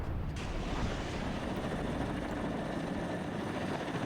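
A helicopter in the WARNO war game drones with a steady rotor thrum and engine roar, continuous and unchanging at moderate volume, with no talk over it.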